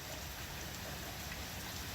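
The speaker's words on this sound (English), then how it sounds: "Now it's non-stop rain." Heavy rain falls steadily at night in Ontario, a dense, unbroken hiss at constant level, with no voices.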